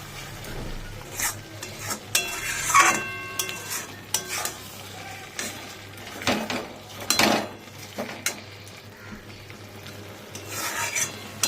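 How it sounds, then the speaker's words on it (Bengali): Spices are stir-fried in oil in a pan, with a spoon scraping and rasping against the metal in irregular strokes, close and moderately loud, with a soft sizzle underneath. "আরও এটাকে ভাজা ভাজা করব"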